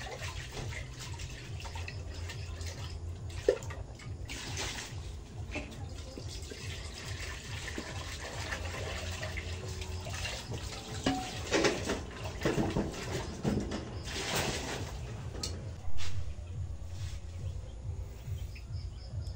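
Water runs steadily from a tap into a cooking pot for a long stretch, a quiet continuous splashing with faint bird calls in the background.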